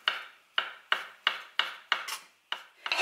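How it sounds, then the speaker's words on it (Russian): A kitchen knife chops crab sticks into small cubes for a New Year salad, each crisp stroke hitting the board in a quick, even rhythm of about eight cuts, close and clear. "палочки режем на 4 части и мелким кубиком"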